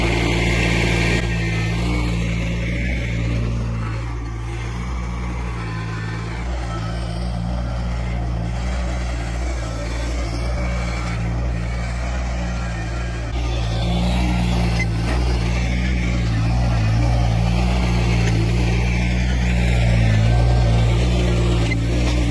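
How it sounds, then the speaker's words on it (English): A tractor works a compost pile, pushing it over and heaping it up, with a steady, loud engine drone that swells and eases slightly as it moves. "So after working the tractor for about 15 or 20 minutes, getting the pile moved slightly over and piled up on top of itself"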